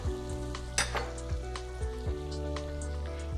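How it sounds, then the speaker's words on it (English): Traditional Spanish paella with tinned seafood and warm stock is stirred in a pan. A steady close sizzle runs throughout, punctuated by several soft scrapes and knocks of the spoon. "We're just going to give this a little stir and then turn the heat down."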